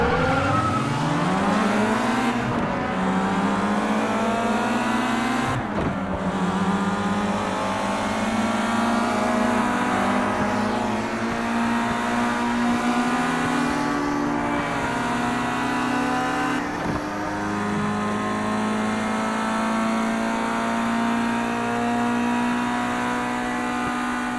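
A race car in the video game GT Racing 2 accelerates hard, its engine whine climbing steadily through the gears with brief dips at shifts, loud and continuous for the whole stretch.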